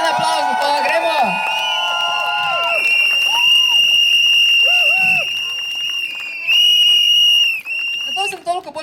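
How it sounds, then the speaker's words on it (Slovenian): A stand-up comedy crowd at a Pride parade event bursts into applause mixed with loud, sustained whistles and whoops, close and energetic, with voices shouting through the cheering. "Ja, en aplavz za to, gremo!"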